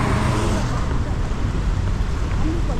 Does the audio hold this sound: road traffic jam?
yes